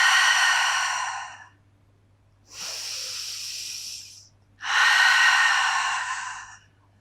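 Three long, close breaths during an intermediate Pilates mat session: a deep airy exhale, a softer inhale, then another strong breathy exhale, each separated by near silence.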